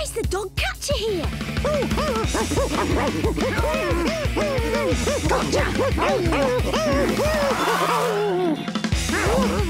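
A cartoon dog barks and yips in quick repeated bursts, loud and close, with crashing effects mixed in and brief spoken lines.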